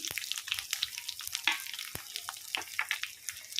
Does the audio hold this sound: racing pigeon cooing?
no